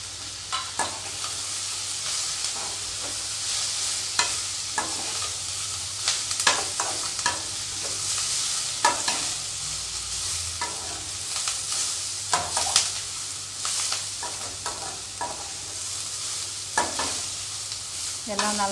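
Chopped onions are stirred and sautéed in a pan for a Tamil-style chutney (thuvaiyal), with a steady oily sizzle and repeated scraping strokes of a spoon against the pan, close up and without speech.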